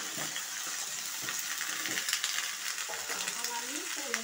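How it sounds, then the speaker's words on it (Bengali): Beans and potatoes tipped into a pan of frying spices, garlic and green chilli, giving a bright, steady sizzle with a few stirring clinks and scrapes, close and continuous. "এখন আমি শিম আর আলুটা দিয়ে দিচ্ছি"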